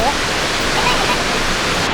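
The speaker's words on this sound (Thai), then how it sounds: "อันนี้คือน้ำตกของจริงน้ำตกลงมา" A large, powerful waterfall in the United States roars with steady, dense broadband rushing that stays loud and unbroken throughout, with water crashing down close by.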